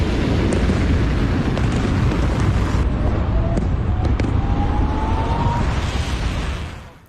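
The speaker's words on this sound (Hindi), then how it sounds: "इजराइल पर धमाके तेज हो गए।" Explosions strike Israel in news footage, a loud rumbling blast with scattered pops and cracks that roll on for several seconds before fading out.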